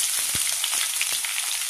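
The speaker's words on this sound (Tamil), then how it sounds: "இப்போ வெங்காயத்தை அதில் சேர்த்துக்கலாம்." Chopped onions fry in a pan for a savoury kara idiyappam, giving a dense, continuous close-up sizzle with a few soft stirring knocks and no talking.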